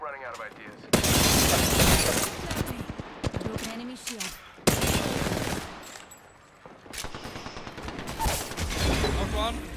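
Rapid bursts of gunfire in the Apex Legends battle royale game, loud and close, with dense automatic volleys that stop and restart over a continuous backdrop of game effects, and a voice talking now and then.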